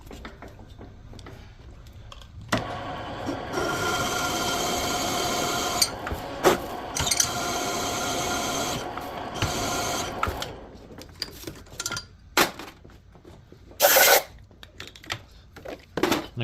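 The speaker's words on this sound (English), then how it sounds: "Let's get to drilling." A drill bores into a cracked Chevy 350 Vortec cylinder head set level in a shop, grinding in a long steady run of about seven seconds, then broken into shorter bursts and clicks, with a final loud screech near the end.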